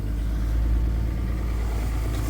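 An old diesel engine running at high idle nearby, a steady low thrumming drone with an even rattling pulse and no voices.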